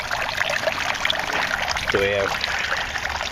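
Close, steady trickle and splash of water spilling from an aquaponics aerator bar into grow beds and a fish tank, running continuously while someone briefly speaks over it.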